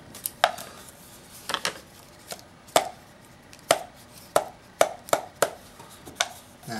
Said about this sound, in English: we got tick tock in a muffled sound because it's paper